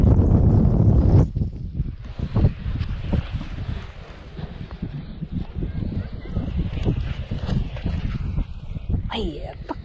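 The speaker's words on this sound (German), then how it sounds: "Ja, jetzt kommt gerade wieder richtig Wind" Strong gusty wind of force 5 to 8 on the North Sea coast buffets the microphone with heavy low rumble, roaring and fluctuating throughout, with faint voices underneath.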